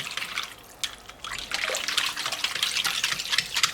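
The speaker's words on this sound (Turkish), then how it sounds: "Ve bunları iyice karıştıracağım." Water with sugar, yeast and olive oil stirred in a bowl for Turkish simit dough, a continuous close liquid sloshing and swishing with small splashes, no talking.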